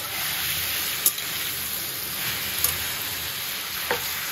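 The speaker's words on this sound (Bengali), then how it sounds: "আস্তে আস্তে ভাজতে ভাজতে এটাকে ভেজে ফেলবো" Chopped shapla (water lily) stems and shrimp fry uncovered in a pan with a steady, close sizzle, broken by a few sharp clicks of a utensil against the pan.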